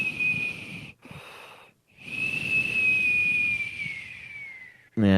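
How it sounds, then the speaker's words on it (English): A nose whistles with each breath, a thin high steady tone that rides long exhalations and drops out between breaths, close and clear with breathy hiss beneath. "you heard the nose whistle though?"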